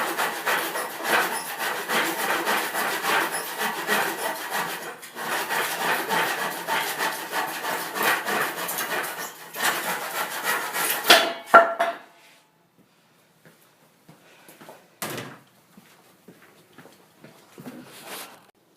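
Steady back-and-forth hand sawing through a wooden board, close and continuous for several seconds, then stopping, followed by a few quieter clunks and handling sounds.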